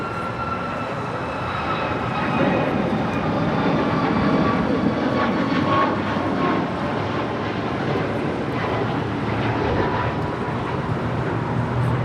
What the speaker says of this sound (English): American 767.